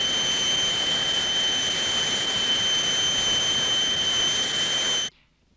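Steady, loud roar of aircraft engine-driven noise generators powered by high-pressure engine bleed air during approach trials, with strong sustained tones over broadband hiss, running continuously then cutting off abruptly near the end.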